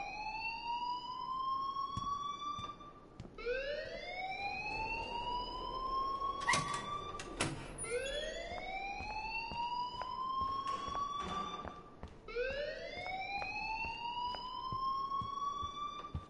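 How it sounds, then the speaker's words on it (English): Alarm in the video game Life is Strange, a rising, wailing siren-like tone that repeats in long sweeps every few seconds, steady and moderately loud with a few sharp clicks between cycles. "please turn off that alarm since that's your job"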